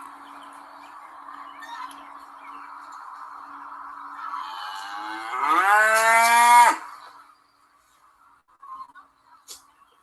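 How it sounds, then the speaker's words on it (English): Farm animals call out over a steady low background, ending in a loud, drawn-out braying bellow, then a few faint sounds. "that was the goats, the donkey, the horse, and Sheldon."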